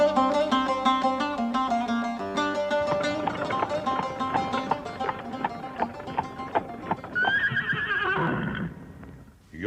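A horse neighs and whinnies over a music bed in a Turkish radio drama about the epic hero Köroğlu, then hooves clip-clop steadily before another loud whinny near the end.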